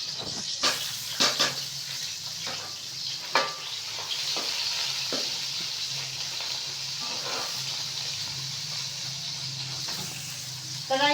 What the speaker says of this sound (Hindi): कढ़ाई के अंदर ना मैंने ऑयल भी डाल दिया और प्याज भी।